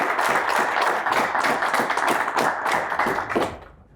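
An audience claps for a presenter on a Saturday afternoon Ethiopian entertainment show, a dense burst of many hands applauding steadily for a few seconds before fading out at the end.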